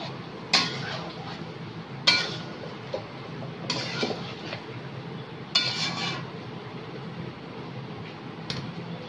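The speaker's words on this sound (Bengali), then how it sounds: "আমি আস্তে আস্তে চিকেনটা কষিয়ে নেব" Chicken for chicken chaap slowly stir-fried in a pan, with a spatula clinking against the metal every second or two over a low, steady background hum.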